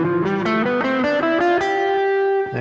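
An electric guitar with distortion plays a Mixolydian scale, a quick run of single sustained notes stepping through the mode and ending on a long held tone.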